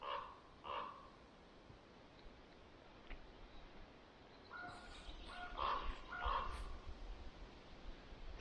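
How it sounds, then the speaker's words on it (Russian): A raven caws in dense taiga forest near a hammock camp, a few harsh calls at the start and a louder cluster of repeated caws later, moderately close over quiet woodland background. "Ворон где-то орёт,"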